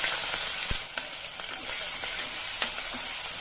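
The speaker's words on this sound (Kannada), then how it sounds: "ಸಾಸಿವೆ ಜೀರಿಗೆ ಶುಂಠಿ ಬೆಳೆ ಪೇಸ್ಟ್ ಹಾಕ್ತೀನಿ ಶುಂಠಿ ಸರಿ ಸ್ವಲ್ಪ ಈರುಳ್ಳಿ ಹಾಕೊಂಡ್ಬಿಡ್ತೀನಿ" Mustard seeds, cumin, ginger paste and onion fry in hot oil for a green gram gravy, producing a loud, continuous close-up sizzle dotted with small pops and crackles.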